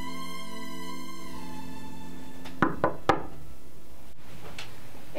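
Three sharp, close knocks rap on the door of a detective agency office, quickly spaced, following a stretch of steady music that fades under them.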